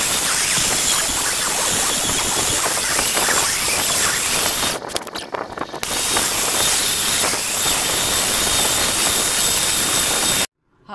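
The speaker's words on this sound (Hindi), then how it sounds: "कीमे को घी वाला हाथ लगाते हुए हम इसको दोबारा मशीन में डालते जाएंगे" A meat mincer machine grinds keema, giving a steady, loud motor whir with a broad hissing grind that drops out briefly midway, then resumes before cutting off abruptly at the end.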